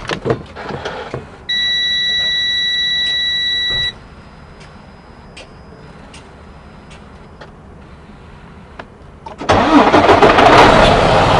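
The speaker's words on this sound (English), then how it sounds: "we have to first start the engine" A truck engine starts with a loud burst of broadband rumble near the end, after a steady electronic beeping tone from the cab and a stretch of quiet idle background.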